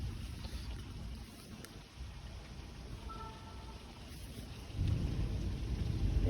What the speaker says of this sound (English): I'm just sitting back enjoying the rain.